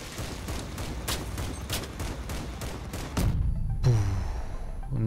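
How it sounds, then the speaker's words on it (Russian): Cannon fire in the vehicle combat game Crossout, a steady series of sharp, close shots at regular intervals, followed by a louder rumbling blast and then a fainter tonal engine or machine sound. "Мне нравится из пушки стрелять. Такой приятный звук."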